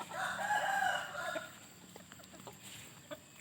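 Chickens and a rooster in an evening farmyard after feeding, with a loud crow in the first second and a half, then scattered clucks and soft scratchy calls nearby.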